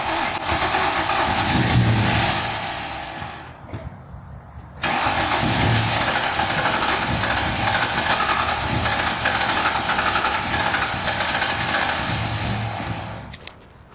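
A car engine cranks, cuts out briefly, then catches and runs steadily with a loud, rough idle close by.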